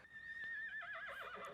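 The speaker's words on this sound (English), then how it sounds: "Horse?" A horse's whinny from the 1980 comedy film Airplane!, a loud wavering neigh that climbs then trembles and falls over about a second and a half, set against faint background noise.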